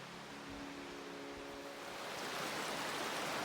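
Water flowing at a forest creek crossing on a Kentucky hiking trail, a faint, steady broadband rush that swells slightly toward the end, with no voices.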